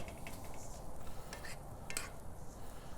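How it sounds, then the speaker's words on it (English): A utensil stirs gravy and vegetables in a pot over a Weber kettle grill, giving faint scraping and clinking with a soft sizzle underneath, quiet and close. "I just want to get a quick stir,"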